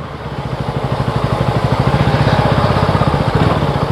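Motorcycle engine revving and pulling away on a ride toward Biligiri Rangaswamy hills, a loud, close, rhythmic puttering that builds steadily throughout.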